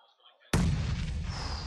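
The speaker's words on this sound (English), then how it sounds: "Nades coming through now." A grenade blast in the battle royale game PUBG Mobile, played in a PMCO Global Finals match: a sudden loud boom after near silence, then a sustained rumbling roar with faint distant noise behind it.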